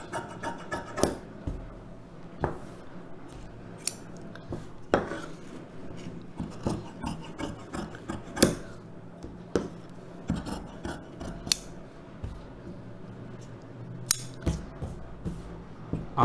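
Scissors cut through silk cotton blouse fabric in a steady series of crisp snips and rubbing scrapes, close and fairly quiet, with brief pauses between cuts.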